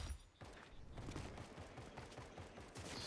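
Rapid gunfire in a Fortnite match, dense repeated shots in quick bursts running almost the whole time after a brief quiet start, fairly close and loud.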